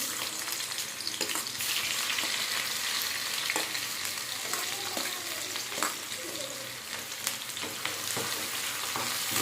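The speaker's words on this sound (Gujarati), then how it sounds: "અહીંયા આપણું તેલ ગરમ થઈ ગયું છે હવે એમાં નાખીશું ડુંગળી" Chopped onions sizzle loudly and steadily in hot oil for a Gujarati-style Maggi dish, a dense continuous crackle with occasional stirring scrapes and no talking.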